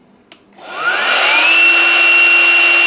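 Portable tire inflator switched on after a click, its motor spinning up with a rising whine and then settling into a loud, steady, close drone that continues alone.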